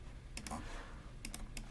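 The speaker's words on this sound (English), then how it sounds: "I'll use my keyboard, Control C to copy, Control V to paste" Computer keyboard keys tapped during work in CNC HMI software, two quick bursts of clicks separated by a pause, close and quiet.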